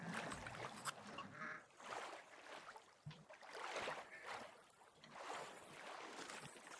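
Faint duck quacks and honks from the video game The Forest rise and fall against a soft watery background, with no voices.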